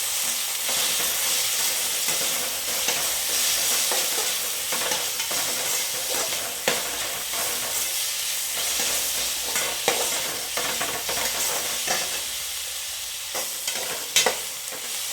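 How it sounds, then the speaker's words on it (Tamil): Tomatoes sauté in a pan for a bottle gourd and lentil kootu, giving a steady, close, even sizzle broken by frequent scraping stirs, with no voices. "தக்காளி சேர்த்து நல்லா வதக்கி வச்சுட்டு"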